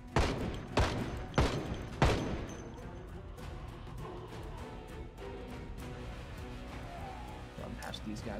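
Shotgun blasts ring out against zombies in Project Zomboid, four sharp loud reports in the first two seconds, then a low rumble with fainter game noise while someone talks over it.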